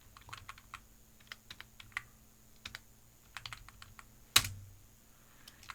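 Typing on a computer keyboard while coding: scattered close key clicks in irregular bursts, with one louder, heavier keystroke near the end, no talking.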